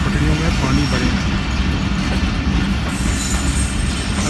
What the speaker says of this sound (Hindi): ये मेरे ख्याल में अल्लामा इकबाल एक्सप्रेस होगा, जो यहाँ से सियालकोट जाने के लिए तैयार है।